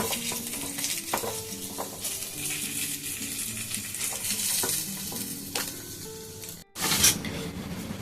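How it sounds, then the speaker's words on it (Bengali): Hilsa fish fries in hot oil, a loud, steady sizzle and crackle with clinks and scrapes of a utensil against the pan, then a brief pause and a fresh burst of sizzling. "দেখুন ভাজা হয়ে গেছে খুব সুন্দর করে, এটাকে তুলে নেব"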